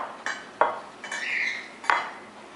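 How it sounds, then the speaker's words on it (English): A utensil scrapes and clinks against a mixing bowl as chocolate chips are stirred into banana muffin batter, several separate close knocks with a scraping swirl between them, no talking. "Now, you're going to have to mix it all together."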